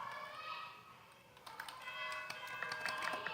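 A computer keyboard clicks with a burst of quick keystrokes as a command is entered in the Windows command prompt, faint and close, with a steady hum beneath and no talking.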